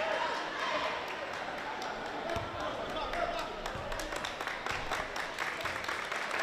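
A crowd at a boys basketball playoff game in Attleboro murmurs and claps steadily, with a few ball bounces and sneaker squeaks mixed in and a commentator talking over it.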